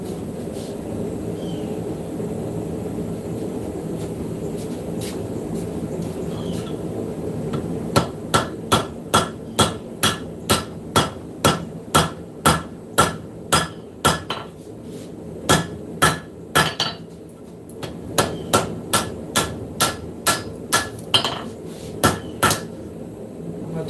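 Hammer blows forging metal on an anvil in a shop, loud ringing strikes in a steady rhythm after a stretch of background workshop noise, pausing briefly before resuming.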